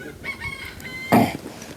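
A bantam chicken gives one short, loud crow near the end of a brief stretch of quiet outdoor background, with some faint clucking-like sounds before it.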